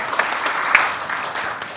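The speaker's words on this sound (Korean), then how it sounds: "박수 부탁드리겠습니다" Audience at a Korean breakfast meeting applauding council members, a brief, close burst of dense clapping with a few sharper individual claps.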